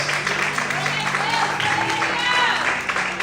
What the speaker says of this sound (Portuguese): Mais fortes palmas.